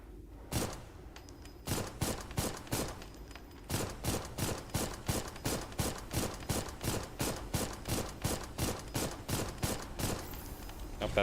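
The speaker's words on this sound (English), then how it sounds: "Oh, that's a big cannon. It's a big missile." Heavy cannon and missile fire in the Armored Core mech game thumps out in a steady, rapid rhythm of loud, close blasts, with a brief pause early on before the barrage resumes.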